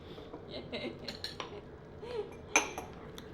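A utensil scraping and clinking against a pan while spaghetti sauce with sugar is stirred, with irregular soft scrapes and a sharper clink near the end, fairly close and moderately quiet.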